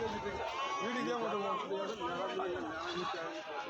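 Several goats bleat close by at a goat market in Narikkalpatti, in wavering, overlapping cries, with a murmur of people chattering in the background.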